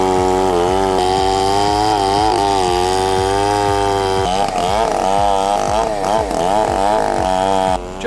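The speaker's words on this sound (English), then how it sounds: "He's wielding a chainsaw that probably weighs as much as a small child, cutting huge rounds of wood" A heavy chainsaw cuts through huge rounds of wood, its loud buzzing engine revving and labouring in repeated surges as the chain bites, close and continuous throughout.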